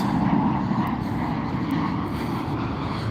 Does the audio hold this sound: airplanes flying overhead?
yes